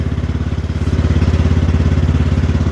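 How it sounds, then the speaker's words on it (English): An XT1 Enduro series garden tractor engine chugs steadily as the tractor is driven through snow, a rhythmic mid-pitched pulse close by that swells slightly as it moves. "Let's drive in the snow with the tractor."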